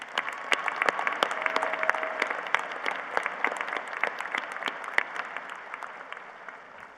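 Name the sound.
audience applause at a university commencement ceremony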